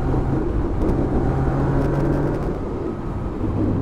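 A 2020 Yamaha MT-09 motorcycle engine drones steadily while riding, a close low rumble with a buzzing mid tone under wind noise, the pitch holding fairly even throughout.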